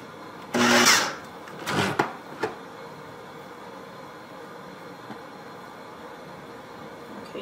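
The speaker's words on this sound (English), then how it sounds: "Put the top on here and go ahead and blend that up." A blender whirs up raw vegan sunflower seed mock tuna pâté with kelp in one loud, close burst of about half a second, then two shorter pulses, before a quiet room.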